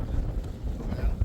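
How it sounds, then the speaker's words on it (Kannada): Strong wind blowing across an open field of flowering crops, buffeting the microphone with a low, rumbling gust throughout a short moment. "ಗಾಳಿ ಜಾಸ್ತಿ ಆಯ್ತು."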